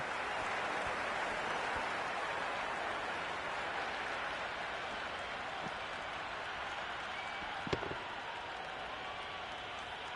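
A cricket stadium crowd in Cricket 26 on day one of an Ashes match, a continuous broad roar and murmur of spectators with faint clapping, steady throughout with a brief sharp knock near the end.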